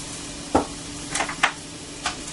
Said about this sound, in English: I'm going to let those shallots just sort of simmer and saute so they release all their flavors